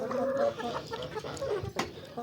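A flock of chickens clucking and murmuring continuously nearby, overlapping calls forming a steady busy chatter.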